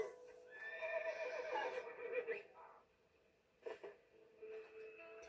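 A horse in the Red Dead Redemption: Undead Nightmare video game lets out a faint whinnying neigh, followed by a short snort and a breathy huff, with no talk.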